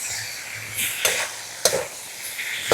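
Beef sizzles steadily in a hot pan while a utensil scrapes and stirs it, giving several sharp clinks and swishes over the hiss.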